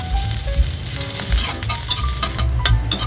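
Ginger slices hit hot oil in a pan for chicken soup, crackling and sizzling loudly and continuously, with scattered sharp pops and occasional stirring knocks.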